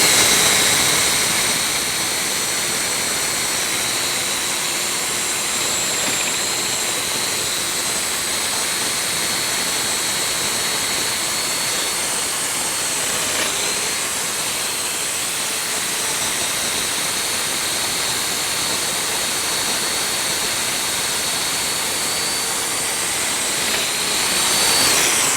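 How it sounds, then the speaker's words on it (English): A SawStop table saw cuts small mortises in a wooden bath vanity panel, giving a loud, steady high-pitched whine with airy hiss that holds unbroken for the full stretch, with no talking. "I'm cutting the small mortises because this is the right-hand side of the panel,"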